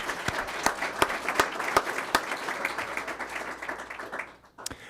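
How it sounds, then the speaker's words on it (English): Applause at a school board meeting, a modest group clapping with some sharp individual claps standing out, fading away toward the end before one last stray clap. "So round of applause for Eliana."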